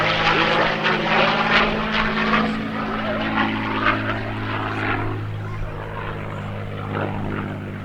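Fighter jet, an F-16, roaring through a barrel roll at an airshow, a loud sustained engine drone with steady low tones holding throughout, announcer talk running over it.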